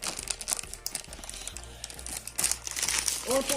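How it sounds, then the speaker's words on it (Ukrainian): Plastic blind-bag toy packets of equatorial animal figures crinkle and rustle as they are unpacked up close, with irregular crackling bursts throughout and a voice talking briefly near the end. "як будемо розпаковувати ці пакети"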